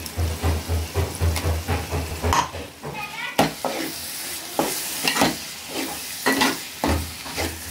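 Stirring fried fish pieces with chili powder, turmeric and ginger-garlic paste in a pan, giving a steady sizzle broken by repeated scraping strokes of a spoon, close and fairly loud, with no one speaking.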